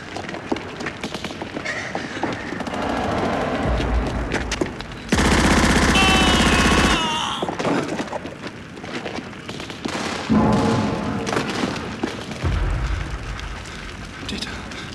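A battle scene from the war film Stalingrad (1993): rapid machine-gun bursts and scattered gunshots crackle loudly and almost continuously, with an especially dense, intense stretch of fire partway through.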